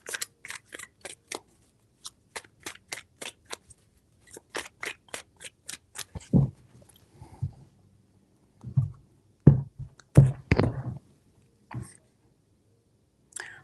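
Tarot cards are shuffled in a series of quick, crisp riffling bursts, then sharper slaps and snaps as the deck is handled, close and fairly loud against near silence.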